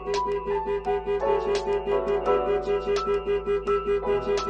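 Starline Solaris alarm going off on a 2024 Ford Transit Custom van, a loud rapidly pulsing electronic siren with regular repeating bursts, heard alone throughout.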